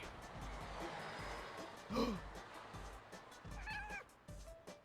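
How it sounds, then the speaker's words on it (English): Cartoon cat meows from the video game Sushi Cat, a few short, high mewing calls spread over several seconds, quiet under a steady background of game music and noise. "I like the little cat sounds that he makes."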